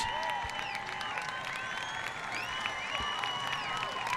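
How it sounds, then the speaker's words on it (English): Crowd on both sidelines applauding near the end of a high school football game between the Canyon Cougars and Steele Knights; distant, sustained clapping and light cheering drift across the field, fairly faint and steady. "As the crowd on both sides giving a good ovation."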